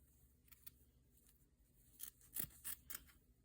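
Fabric shears snip through an old cotton t-shirt, a few soft early cuts followed by three or four sharper, closer crunching snips in quick succession, quiet and with no talking.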